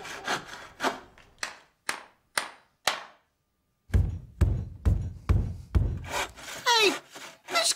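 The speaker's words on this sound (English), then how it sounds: "That was a napper banging off the headboard." A run of sharp wooden knocks and thuds of a head banging against a wooden headboard, first spaced out, then a quicker heavier series of bangs, with a squeaky rubbing sound near the end.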